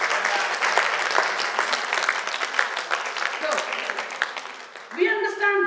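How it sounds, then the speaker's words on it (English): An audience at a DXN health seminar breaks into loud, sustained applause, dense clapping filling nearly the whole stretch before a single voice cuts in at the very end. "Give a round of applause to our DXN."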